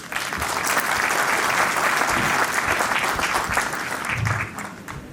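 Loud, sustained applause from a convocation audience at a regional degree ceremony in Srinagar, a dense crowd of clapping hands holding steady before easing slightly near the end.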